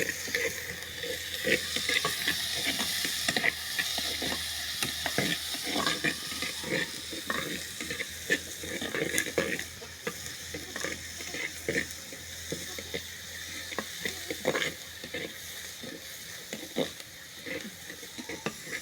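Steady sizzling sauté in a pan for an egg curry, the ingredients frying until golden, with a continuous bright hiss and frequent scrapes and stirring clicks of a spoon, close and with no talking.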